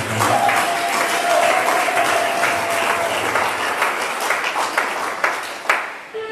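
Church congregation at an evangelical revival seminary applauding, steady sustained clapping from a large crowd with a voice over it and faint cheers.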